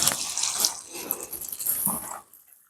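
Water poured from a can onto blackberry cuttings in pots, a steady close splashing and trickling that runs for about two seconds and then stops abruptly.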